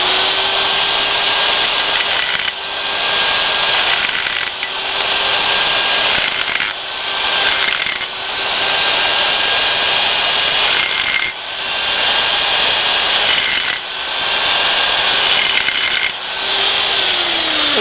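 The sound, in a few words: deburring stainless steel pipe interior with a button burr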